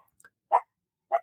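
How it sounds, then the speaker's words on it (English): A dog gives two short, sharp barks about half a second apart, close and fairly loud against silence, preceded by a couple of faint tiny yips. "Cool dog."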